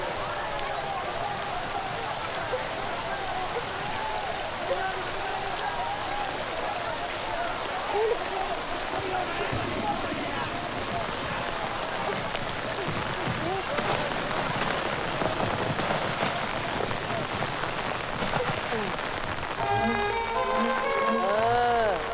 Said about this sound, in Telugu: అయ్యో వాన.